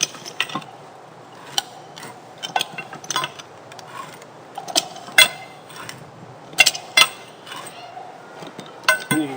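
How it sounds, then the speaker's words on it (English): A pipe wrench turns and ratchets a jack pin loose, producing irregular metallic clanks and clicks of varying loudness, spaced unevenly across the stretch without speech. "push down and pull, turn the pipe wrench at the same time"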